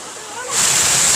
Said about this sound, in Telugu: వాటర్ ఫాల్స్ నీళ్ళు పడుతున్నాయి అనమాట